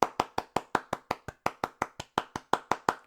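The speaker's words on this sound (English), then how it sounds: "round of thank applause for Eli Silverman and his acting masterclass" A short burst of hand clapping, a steady series of about seventeen sharp claps in even rhythm, close and fairly loud, with no voices.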